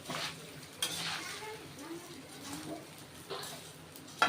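Black pepper and spices dry roasting in a pan over a medium flame, with steady stirring scrapes and a faint sizzle that continues throughout, and a few sharper utensil knocks against the pan.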